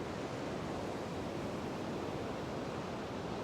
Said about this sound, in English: Maybe your breathing starts to sync up a little bit with the sound of the waves.